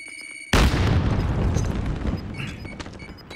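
A grenade explosion in Warzone hits suddenly with a loud, close boom, then a long rumbling decay with scattered debris and game sounds fading over a few seconds.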